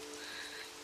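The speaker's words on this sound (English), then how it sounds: "it does sound like it's still raining" Steady hiss of rain falls continuously in a village-building video game, even and soft with no voices over it.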